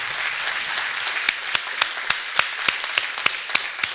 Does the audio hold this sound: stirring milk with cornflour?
no